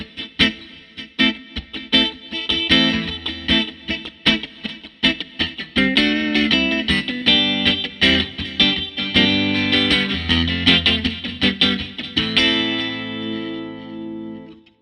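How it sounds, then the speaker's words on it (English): An electric guitar from Newport Player, T-style body with its middle pickup selected, played with an echo effect in a rhythmic, reggae-style strum; choppy repeated chords ring out with trailing repeats, loud and alone. "Put a little echo on there."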